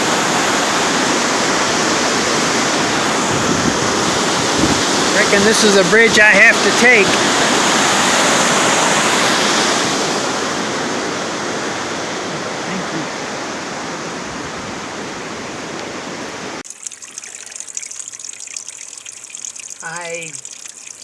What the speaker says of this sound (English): Snoqualmie River.